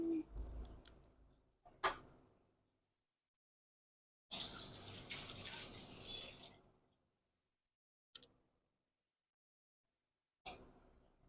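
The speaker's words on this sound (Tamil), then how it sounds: "தேவையான அளவு தண்ணி எடுத்து உள்ள எப்படி ஊற்றிக்கணும்." Water is poured into a cooking pot in a home kitchen: a few short clinks and splashes, then a steady two-second gush, followed by isolated sharp taps with quiet gaps between.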